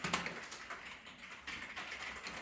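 Someone types on a computer keyboard while entering data into tax accounting software. The soft, quick key clicks come in short bursts and sound quiet and close.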